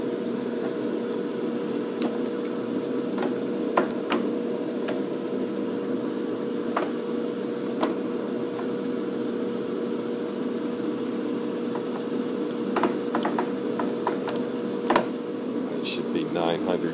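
A Pacemaker lathe runs at about 925 RPM with a steady mechanical hum and whir, punctuated by scattered faint clicks and ticks, under occasional talk.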